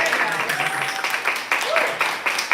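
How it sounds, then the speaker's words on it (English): Audience applause at a poetry reading as the next poet comes up, with scattered claps and bursts of clapping under a speaking voice. "Keep the applause happening until it gets here."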